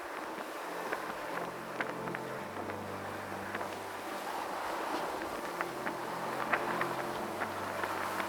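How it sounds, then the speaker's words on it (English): Steady wind gusting across an open hilltop in the Ochils, Scotland, a continuous breathy rush with low buffeting rumble against the microphone, lasting throughout with no voices. "The wind soon picked up, however, and gave me some relief."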